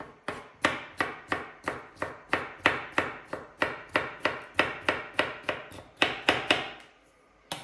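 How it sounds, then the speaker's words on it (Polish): A knife dicing pickled cucumbers into small cubes on a board, a steady series of about twenty crisp, close knocks at an even pace, then falling silent at the end. "ogóreczki kroję w drobną kosteczkę"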